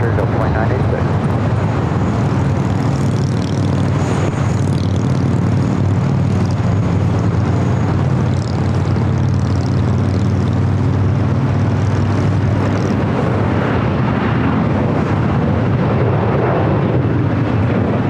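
An airliner departing LAX in thick fog: a loud, steady low engine roar fills the whole stretch without letting up, with voices talking over it.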